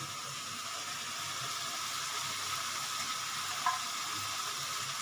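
Slit green chillies dropped into a spice paste frying in oil for a spicy tilapia kalia curry, giving a steady, close hiss and crackle of sizzling that holds evenly throughout, with a brief clink near the end.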